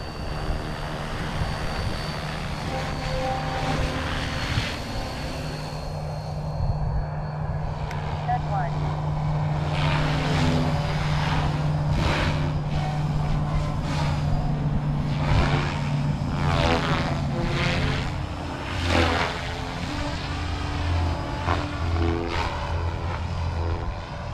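An SAB Goblin 380 electric RC helicopter on 1800 mAh packs spools up and flies, its rotor whine rising and pulsing as it moves overhead, heard over outdoor background noise.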